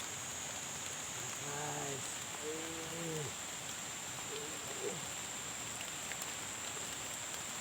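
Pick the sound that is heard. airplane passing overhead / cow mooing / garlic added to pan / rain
rain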